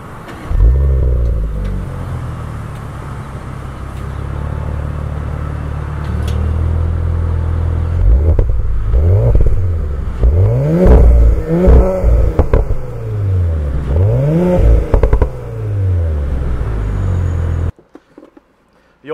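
A 2018 Audi S5 Cabriolet engine fires up loud and close, settling into a deep idle before a series of sharp revs rising and falling repeatedly, then cutting off abruptly.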